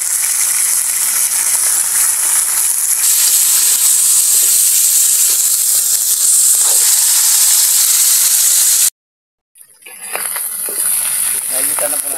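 Garlic and onion sauté in a pan with a loud, constant hissing sizzle close by. It cuts to silence for about a second, then resumes; a voice is faintly present.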